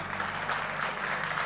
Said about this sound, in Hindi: अगर तालियां आपको बजानी है तो कायदे से बजाइए